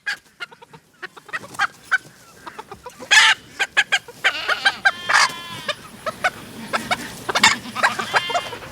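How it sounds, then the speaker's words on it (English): Roosters in a shared pen crow and cluck loudly and close by, with repeated squawks, clucks and a crowing call in uneven bursts, plus other farm animal sounds in the background. "I think that's just a rooster being a rooster"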